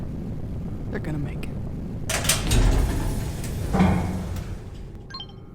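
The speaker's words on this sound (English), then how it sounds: "There go the shuttle's engines firing." Shuttle engines fire in an audio drama scene: a broad roaring whoosh swells twice over a low rumble, with a voice briefly heard.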